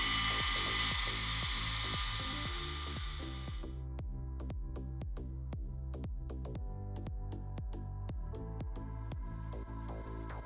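A mini air blower with a nozzle attachment, used on acrylic paint: a steady motor hum with rapid pulsing ticks throughout, and a loud airy hiss at the start that cuts off, leaving the buzzing motor alone.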